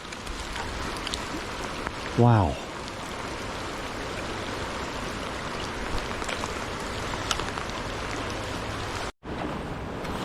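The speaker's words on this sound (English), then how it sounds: "the rain just started really picking up" Heavy rain falling on a river in winter, a steady wide hiss that runs the whole way through. A voice briefly exclaims early on, and there is one short dropout near the end.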